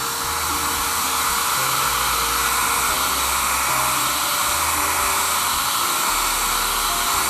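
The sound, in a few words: hair dryer running to heat clear bra film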